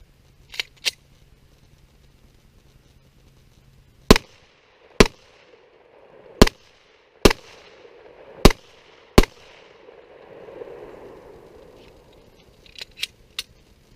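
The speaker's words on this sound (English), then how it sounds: "we just finished shooting the Glock 19 compact 4-inch barrel, 9mm" Glock 19 compact 9mm pistol with a 4-inch barrel, fired in a run of six sharp, loud shots spaced about a second apart, with fainter distant pops before and after.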